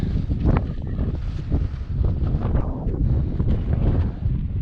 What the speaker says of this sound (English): Okay, super windy.